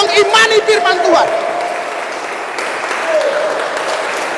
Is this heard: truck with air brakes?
no